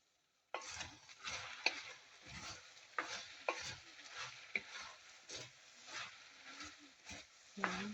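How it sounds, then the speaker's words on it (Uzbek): Potatoes frying in a pan while a utensil turns them, a steady close sizzle broken by repeated scraping and clattering strokes that begins abruptly after a short silence. "Kartoshkamiz bitta aylantirib qovurib bo'ldik."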